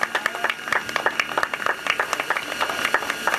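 Applause for a remote-controlled model helicopter pilot: a short burst of scattered, uneven hand clapping from a small group, fairly close, with faint voices mixed in.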